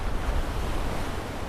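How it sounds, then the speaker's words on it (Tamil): Rough sea waves breaking at night on a coast where people fish, a steady loud wash of surf with low rumbling and some wind buffeting the microphone, no voices. "அலை பயங்கர ரஃப்பாக இருக்குது"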